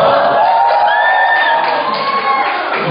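A congregation at a Korean youth church service breaks into steady, dense applause mixed with cheers and a few high whoops as a teacher comes forward to preach, sustained and full throughout.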